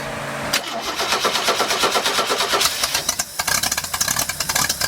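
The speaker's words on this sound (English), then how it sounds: "Squirt the throttle a couple times, maybe even kick the choke down, turn the ignition on, see if it starts." A boosted truck engine cranks and fires up with the ignition on, catching after about half a second into a loud, rough, pulsing run with uneven revving throughout, no voices over it.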